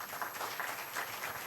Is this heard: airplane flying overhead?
no